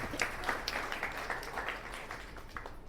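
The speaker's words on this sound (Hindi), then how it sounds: "ताली बजाओ।" An audience claps in a steady, moderately distant patter of applause lasting a few seconds, without speech.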